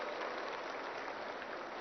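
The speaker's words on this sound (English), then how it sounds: "I think they deserve a big round of applause for this." Audience applause at a green building property show inauguration in Telangana, steady dense clapping that holds evenly throughout, fairly faint and distant, with no voices over it.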